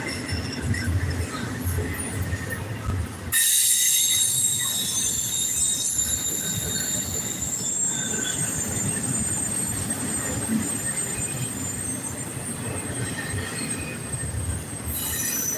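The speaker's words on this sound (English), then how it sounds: "We're coming up on the end of this here train." A train rolls past close by, its wheels letting out a sustained high-pitched metallic squeal over a steady rumbling clatter.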